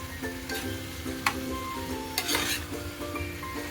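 Bombil fish cook in tomato curry in a pan, with a soft, continuous sizzle broken by light clinks and taps of stirring.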